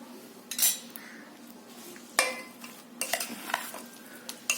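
Sesame-oil mango avakaya pickle is mixed in a bowl with a utensil, producing irregular scraping strokes and sharp clinks against the bowl, close and moderately loud with no talking.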